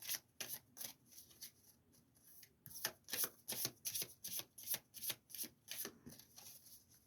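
Karma cards shuffled by hand in a quiet room, a steady run of crisp riffling slaps repeating roughly every half second, close and clear with no voices.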